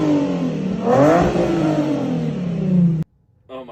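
An Infiniti G37 with a cherry bomb exhaust revs loudly up and down, a raspy rising and falling drone held for about three seconds before cutting off abruptly, followed by a brief quieter sound.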